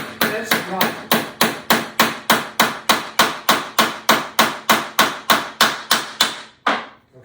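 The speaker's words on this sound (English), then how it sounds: "I'm going to tap this in so it fits right." A hammer taps a rod clamp block into place on a rod, about twenty sharp, evenly spaced close blows in steady rhythm, ending with a softer final strike.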